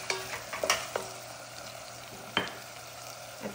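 Beans cooked with tomato, hot chili and spices being stirred in a pan: a low simmering fry under several crisp spoon clinks and scrapes spaced irregularly, close and quiet, no talk.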